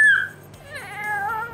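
A household cat meows loudly and close by, one drawn-out call that falls in pitch and then rises again, alone with no talking.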